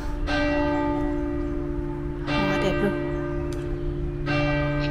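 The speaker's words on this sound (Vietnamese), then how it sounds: "Chuông nhà thờ đổ." Church bells ring out in three loud, resonant strikes spaced about two seconds apart, each tolling and fading with a sustained ringing hum between them, heard outdoors among magnolia trees.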